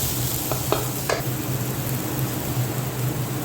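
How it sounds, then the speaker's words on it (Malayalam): Chopped capsicum sautéed in a pan for gobi manchurian, a steady close sizzle of frying with a few quick scrapes of stirring early on. "അത് ചെറുതായൊന്ന് വഴറ്റി വന്നതിന് ശേഷം ക്യാപ്സിക്കം അരിഞ്ഞു വെച്ചിരിക്കുന്നത് ഇട്ട് കൊടുക്കാം."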